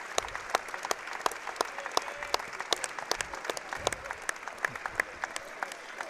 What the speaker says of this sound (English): And a huge round of applause and standing ovation comes.